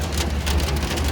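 Steady rain pours onto an amusement park sky ride, a dense, constant hiss with low rumble, close and loud throughout.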